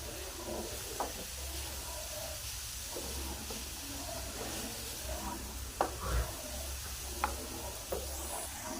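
A spoon stirs dry coriander, cumin and black pepper into a radish paratha filling, a soft scraping swish with faint occasional taps over a steady hiss, close but quiet.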